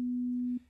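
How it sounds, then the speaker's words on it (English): A short, pure sine-wave tone from a synthesizer plugin in FL Studio, a smooth, steady hum held for about half a second before it cuts off cleanly. "Let's change our first wave shape here to a sine wave so we get a very smooth tone."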